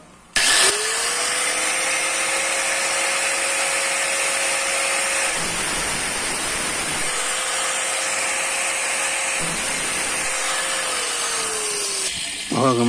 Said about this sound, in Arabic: لو احنا عندنا حاجه زي كده شنيور اهو